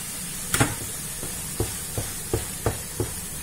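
Béchamel sauce being stirred into spinach in a frying pan for spinach lasagne: a low sizzle broken by about six sharp spoon knocks against the pan, spaced roughly evenly.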